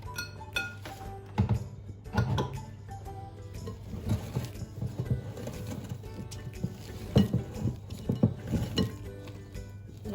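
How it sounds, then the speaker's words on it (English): A spatula works through Victoria sponge cake batter in a bowl, making repeated soft slaps and scraping taps in an uneven rhythm against a faint steady background hum. "just going to take our spatula and give this a good mix, making sure there's no dry flour left in here"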